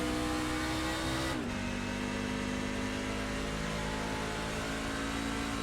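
A race car in the iRacing sim at Phoenix drops a gear under braking, its steady loud engine drone breaking at once and settling to a lower, continuous pitch, with no talk.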